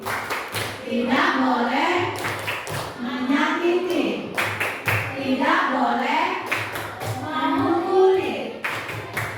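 Schoolchildren at an Indonesian elementary school perform a rhythmic tepuk clapping chant, sharp hand claps repeating in regular bursts under loud group chanting voices throughout.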